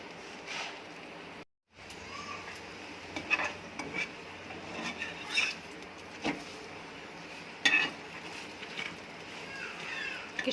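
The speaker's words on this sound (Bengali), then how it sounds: "তাওয়া গরম হয়ে গেছে, আমি পরোটা দিয়ে দিচ্ছি" An aloo paratha cooks on a hot tawa with a soft, steady sizzle, broken by occasional clinks and scrapes of a spatula against the pan, close and moderately quiet.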